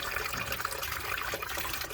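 Hot water runs steadily from a tap outlet, a continuous close hiss and splash with no pauses, heard alone at moderate volume.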